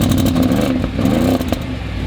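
A luxury car abandoned in Dubai has its engine running and revving, a loud, steady mid-pitched growl that holds for about two seconds with slight surges and clattery texture and no talking.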